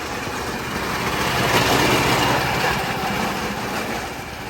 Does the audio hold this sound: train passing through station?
yes